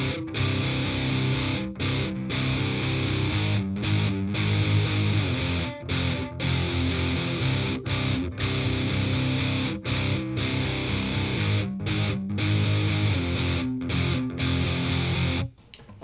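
Heavily distorted electric guitar strumming the verse of a song, open rather than palm-muted, in steady chugging chord rhythms with brief gaps, loud and alone until it cuts off at the end.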